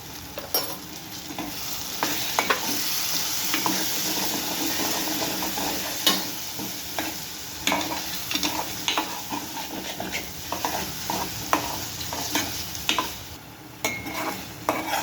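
Ridge gourd and onion curry with salt, turmeric and coriander-cumin powder stirred in a pan, a steady close sizzle with repeated scraping strokes of a spoon, no voices.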